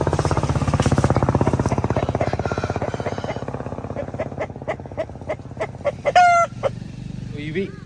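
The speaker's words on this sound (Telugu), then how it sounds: "ఇవి ఈ సంవత్సరం బరిలోకి దిగే పందెం కోళ్ళు" Sankranti fighting roosters crow and cluck loudly and close, with a dense rhythmic mechanical chatter beneath early on, then distinct repeated clucks and a long crow near the end.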